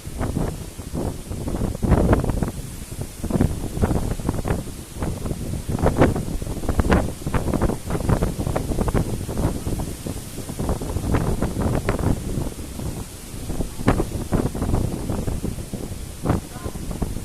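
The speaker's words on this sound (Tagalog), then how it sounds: "Sobrang lakas ng hangin, guys." Strong wind gusting hard against a house and roof, buffeting a nearby microphone with loud, continuous roaring and rustling that swells and fades throughout.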